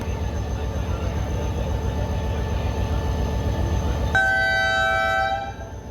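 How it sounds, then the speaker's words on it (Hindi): Shah Latif passenger train leaving Jummakot station, a steady close rumble of rolling carriages, then a bright horn blast rising over it near the end before the sound drops away. "जुम्माकोट रेलवे स्टेशन से रवाना हो रही है हमारी ट्रेन।"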